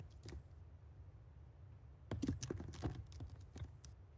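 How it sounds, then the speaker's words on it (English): Faint keyboard typing heard remotely during an online meeting: a few scattered keystrokes, then a denser burst of quick clicks over low background noise. "I can hear you typing now."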